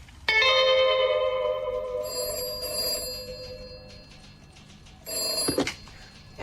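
A telephone rings at a police station in a long electronic trill, pauses, then gives a shorter second burst before it is picked up with a clunk; it is clear and fairly close, with no one talking.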